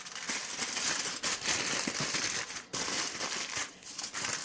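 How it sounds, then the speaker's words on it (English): Aluminum foil is crinkled and folded around ribs in two layers, a close, continuous crackling rustle with sharper crunches and brief pauses, no voices. "We're going to use 2 layers of aluminum foil"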